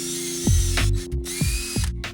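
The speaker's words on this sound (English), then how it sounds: "You put the drill bit right through the hole here and begin drilling." A power drill runs a bit through a hole in a Dodge Promaster camper van during a MaxxAir fan installation: a steady whirring hum with repeated rhythmic grinding pulses, loud and close, with no voices.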